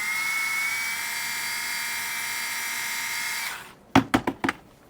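A small drill bores through a Mini4WD rear stay with a steady high whine for most of the stretch, then cuts out, followed by a few sharp clicks and taps close by.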